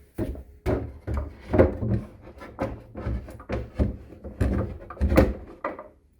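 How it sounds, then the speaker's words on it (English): Wooden antique dresser drawer slid back into its frame, a run of repeated knocks and thumps with rough scraping between them, close and fairly loud, a voice briefly in the background. "Clemmy, let's slide that drawer in."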